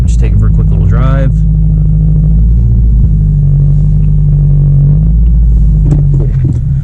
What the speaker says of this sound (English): Just gonna go ahead and back up, just take it for a quick little drive.